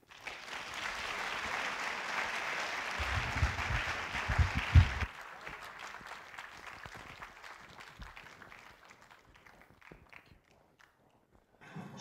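Loud, dense applause from an audience at an evening talk welcoming an author, lasting about five seconds before fading into scattered claps, footsteps and shuffling in the room.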